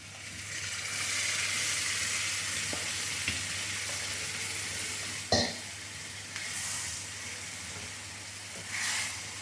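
Steady sizzling of tomato paste frying with spices in a pan for tomato pickle, with occasional soft scraping and clinks of stirring, close and continuous with no voices.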